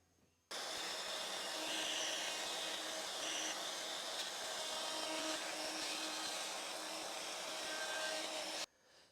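Router with a bearing-guided bit cutting a pocket into a guitar body, a loud, steady high-pitched whine with cutting noise lasting about eight seconds and then stopping abruptly.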